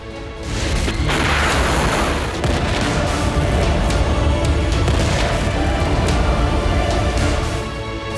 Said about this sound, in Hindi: तेल अवीव में आया विकराल बारूदी बवंडर।